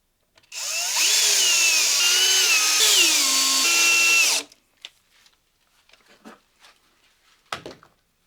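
A power drill runs in one steady burst of about four seconds, its pitch stepping down in stages as it drives screws to mount recorders, followed by small scattered clicks and handling noises.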